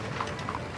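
Coconut shells clopped together to imitate a horse trotting give a quick, brief run of hollow knocks, close and moderately loud.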